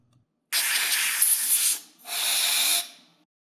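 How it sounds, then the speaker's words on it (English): Two sharp bursts of canned compressed air spraying contact cleaner at close range inside a Glowforge laser cutter, a longer hiss followed by a shorter one after a brief pause. "I'll then go back to the canned air and spray this contact cleaner so it'll evaporate quicker."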